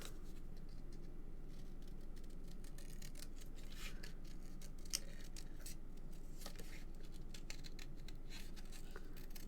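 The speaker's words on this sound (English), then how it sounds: "Love these scissors for fussy cutting." Scissors fussy cutting card pieces snip in quick, irregular clicks and soft paper rustles, close but faint against a low steady background.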